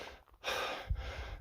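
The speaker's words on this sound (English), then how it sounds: "But I'm breathing hard." A hiker breathing hard while climbing a hill above 6,000 feet on the Arizona Trail, a couple of heavy, close gasping breaths with a sighing exhale.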